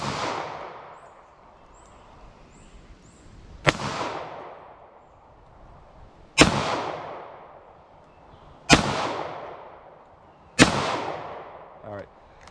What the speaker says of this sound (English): when they hit that steel, they are very loud